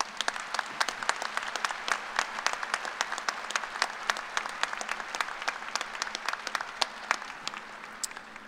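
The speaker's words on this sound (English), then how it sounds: "Please recognize these individuals with a round of applause." Steady applause from a commencement audience at an engineering graduation ceremony, honoring standing engineering faculty; dense, even clapping from a large crowd throughout, with no voices over it.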